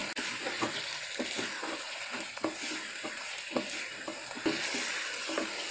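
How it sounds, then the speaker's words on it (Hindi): Chicken pieces frying with ginger garlic paste in a karahi, a continuous close sizzle broken by regular stirring scrapes and spoon knocks throughout, with no talk. "चिकन डाल के अच्छे से भून लेंगे इसे।"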